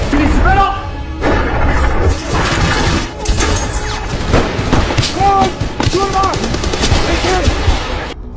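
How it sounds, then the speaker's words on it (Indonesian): Rapid bursts of gunfire crackle and echo throughout, with scattered louder shots and crashes over a dense, noisy battle background. "Sedangkan Letnan Yasar dan August memberi tembakan perlindungan dari jendela kabin."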